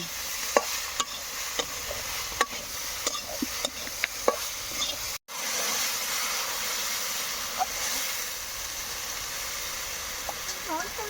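Shrimp with cumin and turmeric stirred in a pan, for shrimp cooked with taro stolons, then water added: scattered spatula clicks and scrapes over a low sizzle, a brief break, then a steadier hissing simmer.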